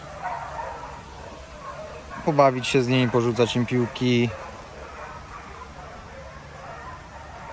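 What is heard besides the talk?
dogs barking at Soi Dog shelter in Thailand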